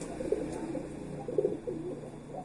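A pigeon kept in a loft gives a few soft, low coos, faint and close, with two short bursts about a second apart against a quiet background.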